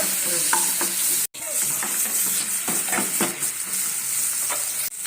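Small ripe tomatoes fry and sizzle in a pan for ridge gourd curry, with steady sizzling broken by repeated stirring scrapes and clinks, close and fairly quiet.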